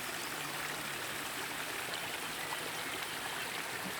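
A waterfall and stream pour steadily in a dense, even rush of flowing water, with no other sounds.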